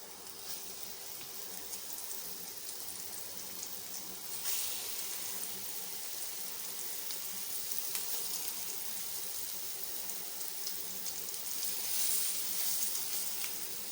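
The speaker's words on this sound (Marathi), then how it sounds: "मस्त असे मंद आचेवर खरपूस फ्राय करायचे" Surmai fish pieces coated in rice flour fry on a low flame with a soft, steady crackling sizzle of oil throughout, faint and even with occasional light pops.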